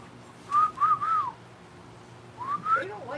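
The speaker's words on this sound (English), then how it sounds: "They don't like your whistling." A person whistles short rising and falling phrases, a few quick notes, a pause, then more notes, fairly close against a quiet background.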